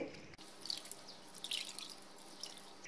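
Water drips and trickles in small splashes as it drains off boiled, cooled spinach leaves, with faint irregular drops and no talking.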